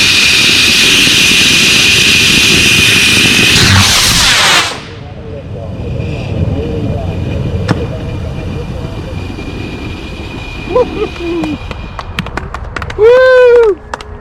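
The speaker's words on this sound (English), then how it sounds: "we have ignition sequence start. The engine's now building up." A model rocket for an SLRA Apollo 16 commemorative launch fires with a loud, harsh roar lasting several seconds, then cuts off, leaving outdoor ambience with distant voices and cheers.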